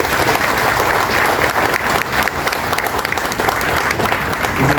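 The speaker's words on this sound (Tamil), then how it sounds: "அப்படின்னா ஒரு பெரிய கைத்தட்டு இருக்கு" A hall audience at an Independence Day heroes awards celebration bursts into loud, sustained applause, a thick continuous wash of clapping from a large crowd that holds at an even level from start to finish.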